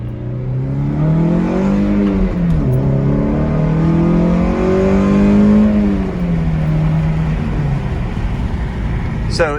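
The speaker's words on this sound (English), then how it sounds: "Do one more pull. I'll give you first gear this time." A 2001 Toyota MR2 with an MWR intake accelerates hard in first gear, the engine note climbing in a loud, rising rev sweep that dips at a shift and climbs again, heard close from inside the car with some talk.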